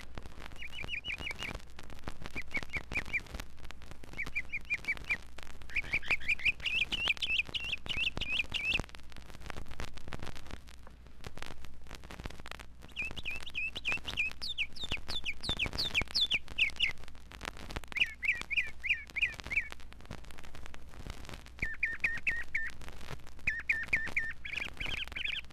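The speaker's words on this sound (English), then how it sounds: "He's the state bird of Florida, by the way, the mockingbird." A northern mockingbird sings, played from a vinyl record: bright, varied chirping phrases repeat in bursts separated by short pauses, over faint record crackle and low hum.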